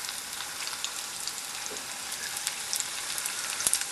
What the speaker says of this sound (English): So basically, you just drop the lumpia in slowly.